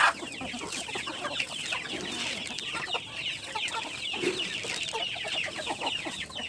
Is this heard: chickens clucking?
yes